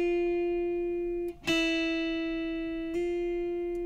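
Hammer-on notes ring out on the second string of a guitar: a picked note sustains, then a sharp attack shifts it to a new pitch, and another attack follows later, clear and close with no talking.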